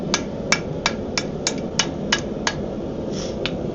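Hammer blows on hot iron over a cold anvil, bending a bar to 90 degrees for a horse-logging cart repair: about ten sharp, evenly spaced ringing strikes, close and fairly loud over a steady low background.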